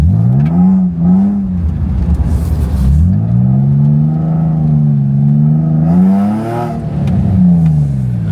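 A Nissan 350Z engine revs repeatedly through a loud, throaty cheap aftermarket exhaust, pitch rising and falling in several close, sustained pulls.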